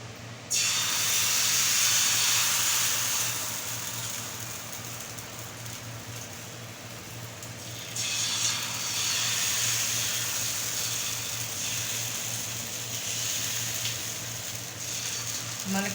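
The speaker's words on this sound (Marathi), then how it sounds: "आता आपण धिरडे सोडून घेऊया." Sprouted green moong batter sizzles loudly on a hot oiled griddle, a steady broad hiss that swells when batter is spread and again midway, close and continuous with no talk.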